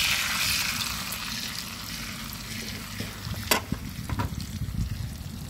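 Dried fish (daing na dangit and galunggong) frying in oil on a butane stove, a steady close sizzle with scattered sharp pops and crackles as it cooks.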